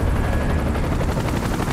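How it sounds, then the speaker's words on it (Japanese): A Shinra army helicopter in the video game Final Fantasy VII Rebirth, heard as a dense, loud, continuous roar during battle with rapid gunfire-like bursts, steady throughout and with no voices. "あの神羅のねヘリですね。 あれは神羅の軍の方々が乗ってるヘリ"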